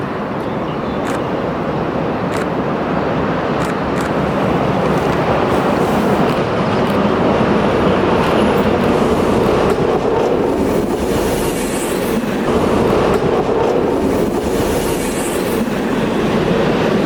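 A train passes on the Krems–St. Pölten line in Austria with a loud, sustained rumble, rhythmic clickety-clack of wheels over rail joints and occasional light wheel squeal, running close throughout.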